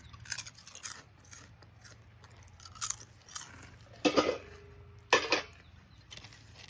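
Crunchy dry papad being bitten and chewed, soft intermittent crunches with two louder sharp bites near the end, close and quiet, no talking.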